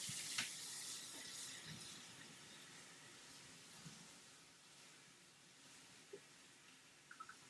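Tap water runs quietly into a sink as pumpkin seeds are washed under it, a faint steady trickle with a few small clinks and knocks and no voices.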